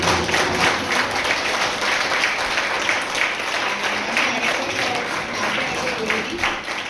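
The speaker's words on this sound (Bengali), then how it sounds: "আর একবার জোরদার হাততালি হয়েছে।" Loud, sustained audience applause at a live stage reading of Parashuram's comedy Birinchi Baba, a dense, even wash of many hands clapping that holds steady from start to finish without a break.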